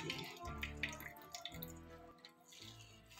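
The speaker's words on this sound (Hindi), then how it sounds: "इसको हम अब निचोड़ के इसका पानी निकाल देंगे" Water drips and trickles from grated bottle gourd as it is squeezed by hand in a kitchen, a quiet run of close, irregular splashes and patters.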